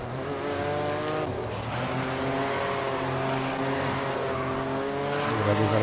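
Race cars in the video game GRID hold a steady, loud engine roar as they accelerate through gears, dense and continuous with overlapping cars close by, and no talk.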